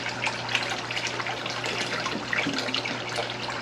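A filter on a bait tank runs steadily, its water pouring and gushing in an even, close, unbroken wash.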